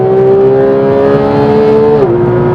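A Porsche 911 GT3 accelerates hard on a race track, its engine a loud, close, rising howl that climbs steadily, then drops sharply on an upshift and keeps pulling.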